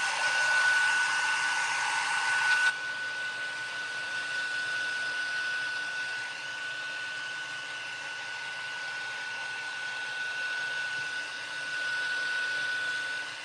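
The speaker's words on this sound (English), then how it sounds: "I'm gonna hit her with the dryer real quick." A hair dryer blows with a steady, close airy roar and a thin high whine, loudest at the start and then running evenly throughout.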